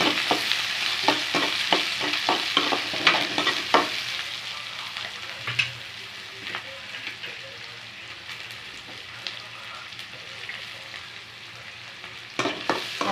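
Large onions frying with mustard seed, fenugreek and cumin for brinjal kara kuzhambu are stirred in a pan, with repeated scraping strokes and clacks over a continuous sizzle, busiest at the start and again near the end; no talking.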